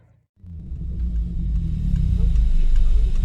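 A Peugeot 205 GTI or 207 RC pulls away after a brief silence, its engine rumbling low and building steadily louder as the car accelerates, close and loud.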